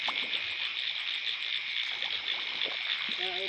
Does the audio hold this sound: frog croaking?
yes